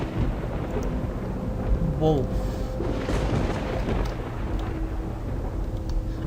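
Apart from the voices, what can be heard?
thunderstorm in the video game The Path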